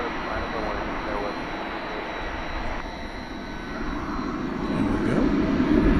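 An American Airlines jet departs from runway 18 left at DFW Airport at night, a broad engine roar that swells and grows louder toward the end, with a brief voice speaking early on.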